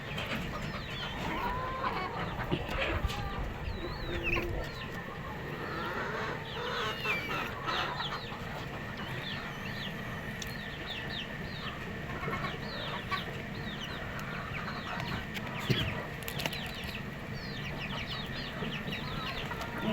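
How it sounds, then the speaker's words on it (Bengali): Laying hens cluck steadily as more come to lay eggs in a poultry shed, with overlapping chicken calls and occasional rooster-like cries throughout at close to moderate distance. "মুরগিগুলি আরও আসছে ডিম পাড়ার জন্য।"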